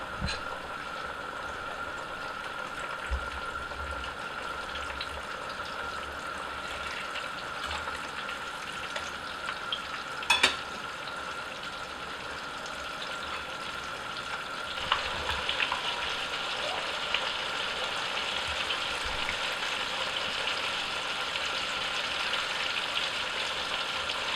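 Breaded kaşar cheese panes frying in hot oil, a continuous close sizzle and bubbling that swells louder toward the end, with a sharp clink partway through.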